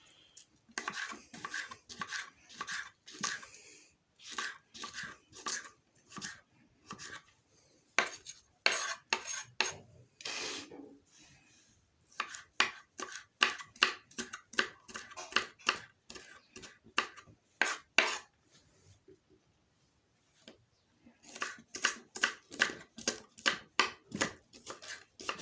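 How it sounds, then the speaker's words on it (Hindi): A knife chops a peeled, washed onion on a board in quick, steady bursts of sharp, close knocks, with short pauses between runs. "तो प्याज ले आया हूँ मैं जी, इसको छील कर अच्छी तरह से धो लिया है। अब इसको काटेंगे।"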